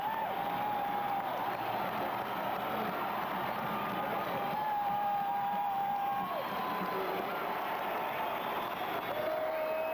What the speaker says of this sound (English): the applause you hear are for the Bobcat seniors, Greg Walters and Tony Hampton